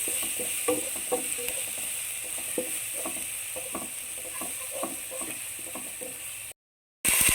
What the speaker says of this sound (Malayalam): ഇഞ്ചി വെളുത്തുള്ളി പച്ചമുളകിൻ്റെ പച്ചമണം മാറുന്നിടം വരെ